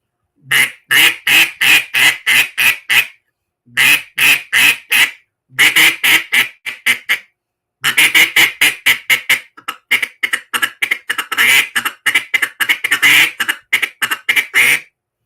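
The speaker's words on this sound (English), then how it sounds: "this is Daryl's call from the Waterfowl Company. Got a little higher pitch. It's a loud call" A loud, higher-pitched duck call from the Waterfowl Company blown in rapid runs of sharp quacks, bursts of several notes separated by short pauses, close and clear with no talking.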